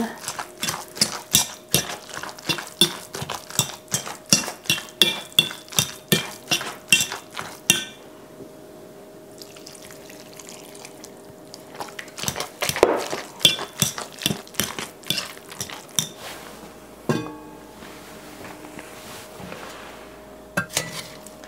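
Potatoes being mashed and stirred with milk and brown butter in a pot, giving a run of quick utensil clinks and scrapes against the pan, with a quieter stretch partway through and a few sharp knocks near the end.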